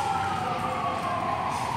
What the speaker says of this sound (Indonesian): ada bunyi pemadam kebakaran.